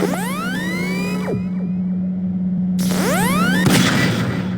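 Half-Life 2 Episode 2 Strider Buster device shot and blowing up against a Strider: a loud game explosion with a swooshing electronic sweep, then a second burst with a sharp crack, over a steady electronic drone.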